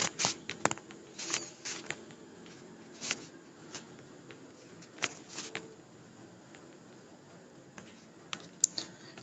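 Fingers tap out a search on a computer keyboard in quick, irregular bursts of light clicks, close and fairly quiet, with short pauses between keystrokes and no talking.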